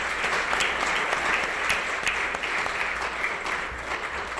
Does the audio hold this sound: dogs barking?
no